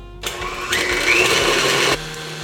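An electric mixer beats butter for a chocolate cake until light and fluffy, a steady loud whirring motor that starts abruptly, rises in pitch and stops after about two seconds.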